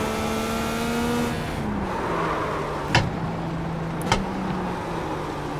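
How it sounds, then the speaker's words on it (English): An IndyCar engine drones along at Mid-Ohio in iRacing, then two sharp bursts of tire screech cut through as the wheels lock under braking, in game audio. "I hear tires locking up again."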